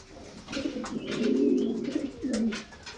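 A pair of Madrasi pigeons cooing close by, a low, throaty, rolling coo that swells and fades twice across a few seconds, loud and alone.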